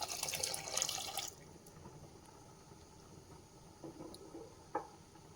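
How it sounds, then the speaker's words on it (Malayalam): Water pours from a tap or jug into a pot of simmering lentils for South Kerala-style sadya parippu curry, a brief close splashing pour that stops after about a second, followed by quiet kitchen background and a couple of small clinks. "പയർ വെന്തില്ല അതുകൊണ്ട് നമുക്ക് കുറച്ചുകൂടി വെള്ളം ചേർത്ത് കൊടുക്കാം"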